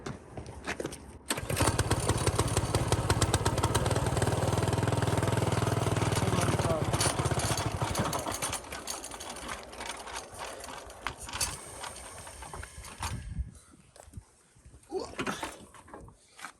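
A homemade go-kart engine runs loud and steady for about six seconds on a test stand with its back wheel removed. It then drops to a rougher, uneven sputter and dies out near the end.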